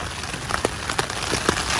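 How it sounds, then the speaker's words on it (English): Rain patters on a tent during a trail camp, a dense close drumming with a few louder drops standing out. "And as you can probably tell, it's still raining."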